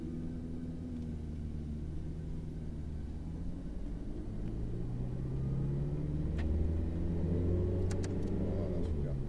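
A Ferrari F8 Tributo drives on a race circuit: a steady low engine drone that swells slightly louder partway through, with faint background sounds and no clear revving peaks.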